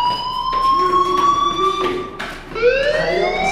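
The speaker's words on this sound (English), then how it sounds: "Hey, do you hear that fire alarm?" A school fire alarm in the video game Life is Strange rings out as a steady, shrill electronic tone, joined by a second rising alarm sweep near the end, fairly loud and without talk.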